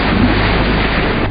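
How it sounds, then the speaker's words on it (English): Heavy rain and a thunderstorm over Pennsylvania, delaying a Pittsburgh music festival, form a loud, dense, unbroken roar that fills the whole stretch with no voices. "Buckets of rain delaying a Pittsburgh music festival."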